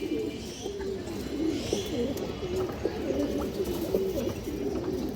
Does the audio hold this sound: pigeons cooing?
yes